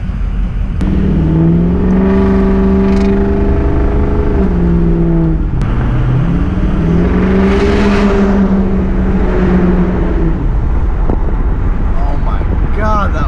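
A 2006 Ford F-350 pickup with a straight pipe exhaust revs twice, each a loud, deep rumble that climbs and falls back, with steady wind noise on the microphone.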